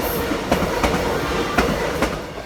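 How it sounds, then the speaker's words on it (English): Express train passing through Surrey Hills station, loud rolling rumble with rhythmic clickety-clack of wheels over rail joints at close range. "Express trains pass the station most of the time in the morning."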